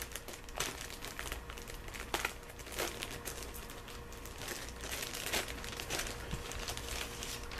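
A plastic bag crinkles and rustles while a 1984 Robotech Defenders toy is unboxed, with continuous close handling and sharper crackling bursts at irregular moments, fairly quiet and without talk.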